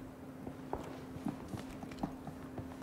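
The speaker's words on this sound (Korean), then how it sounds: "발소리 들려요?" Footsteps in the video game PUBG (Battlegrounds), a series of quiet, evenly spaced thudding steps at a walking pace, about half a second apart, over a faint steady background hum.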